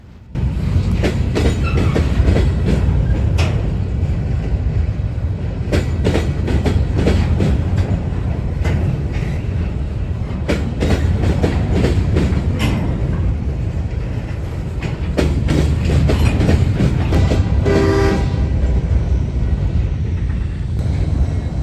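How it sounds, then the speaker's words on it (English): A train starting to move in Newcastle, Pennsylvania rumbles continuously nearby with repeated rail clicks and clanks, a loud low mechanical drone throughout and no voices. "the other train across the way decided to start moving"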